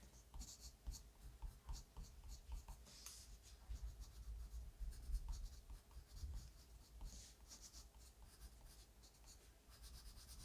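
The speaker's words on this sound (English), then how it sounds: "I'm just gonna use the dark umber to kind of create some like scratchy lines" Dark umber colored pencil scratching short, quick lines on paper: a soft, close, dry scratching in rapid irregular bursts that continues throughout, quiet and alone.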